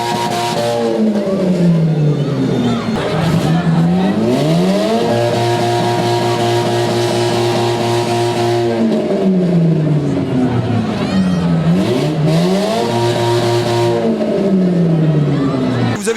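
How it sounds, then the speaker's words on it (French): Festival cars at the Hagetmau cavalcade rev their engines loudly and repeatedly, each pitch sweeping up and falling back between sustained roaring holds, close and continuous with a crowd faint beneath. "les fameuses voitures des fêtes qui, avec leur bruit et leur vombrissement et leur confetti"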